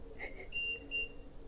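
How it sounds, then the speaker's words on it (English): Electronic ghost-hunting meter giving short high-pitched beeps during a haunted house tour, two brief tones close by over a quiet room after a faint chirp. "Every time yours beeps, this beeps"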